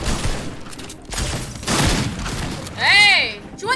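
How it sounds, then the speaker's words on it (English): Shotgun blasts in a video game, a few heavy booming shots spread across the moment, mixed with game effects and people talking over them. "let me use this new shotgun."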